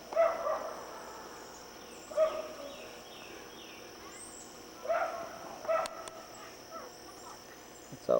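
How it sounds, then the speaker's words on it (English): Dogs bark in the distance behind a house in the woods, a few faint, scattered barks that stand out from a quiet outdoor background. "You can hear the dogs barking."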